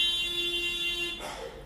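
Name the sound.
alarm going off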